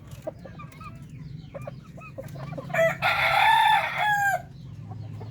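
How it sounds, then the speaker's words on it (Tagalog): Darag native chickens in a Zaragoza, Nueva Ecija farmyard: soft scattered clucks, then a loud, close rooster crow lasting about a second and a half, over a low background hum. "Ganyan po ang ating mga darag native chicken."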